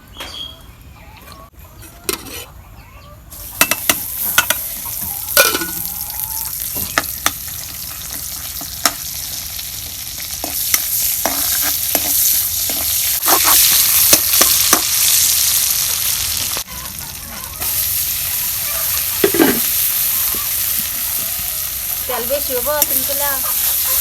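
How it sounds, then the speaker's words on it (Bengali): Dekeria greens fry in mustard oil in a village kitchen, a loud, close sizzle that swells after a quieter start, with repeated spoon clatters and scrapes throughout. "সর্ষের তেল দিয়ে শাকগুলো সুন্দর করে ভেজে নেবো"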